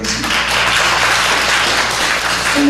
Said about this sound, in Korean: 감사의 박수 한번 하겠습니다.